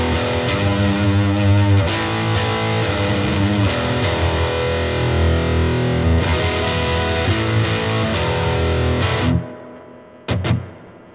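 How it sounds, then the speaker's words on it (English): An electric guitar played through a Boss Metalcore ML-2 distortion pedal rings out loud and saturated with sustained, heavily distorted chords. It cuts off near the end, followed by a couple of short bursts. "But yeah, Boss Metalcore ML2. And let's hear that thing."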